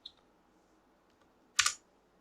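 A few faint keystrokes on a computer keyboard while typing into a browser, followed by a sharper cluster of clicks near the end, close and quiet in a still room.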